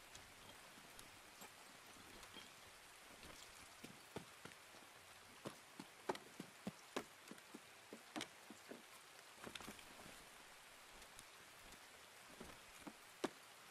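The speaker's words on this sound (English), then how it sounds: "Oh, this rain." Rain falls in the video game Escape From Tarkov, a quiet, steady hiss dotted with scattered sharper drop ticks and patters throughout.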